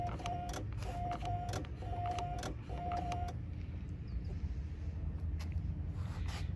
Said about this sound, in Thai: ก็จะได้ยินเสียงมอเตอร์ทำงานนะครับ